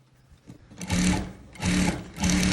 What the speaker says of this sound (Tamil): நான் வந்து இதில் ஒரு படிமான தையல் போட போகிறேன்.